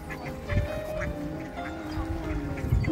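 Honking calls of swans, adults and young, ring out repeatedly over the White Lake in Gatchina in winter, several birds calling at moderate distance amid a steady outdoor hum.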